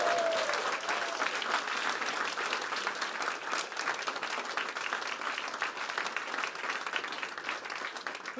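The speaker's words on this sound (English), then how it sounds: "Don't clap me yet." A London audience applauds a speech on adult social care with sustained, even clapping at moderate distance, a dense continuous patter that holds steady throughout.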